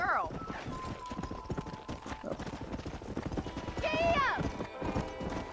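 Horse hooves clip-clop at a steady walking rhythm in the Red Dead Redemption video game, running under ongoing dialogue between characters, with a brief whinny-like call rising partway through.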